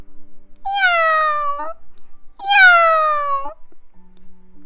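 Two long, clear cat meows, each rising and then falling, are separated by a short silence, heard up close as a storytelling sound effect.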